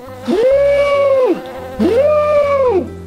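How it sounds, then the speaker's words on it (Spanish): Cartoon bee buzzing around, two swelling and falling buzzes, each rising in pitch, holding, then dropping away, with a low synthetic tone underneath, loud and close. "No para de seguirme esta abeja, me está picando."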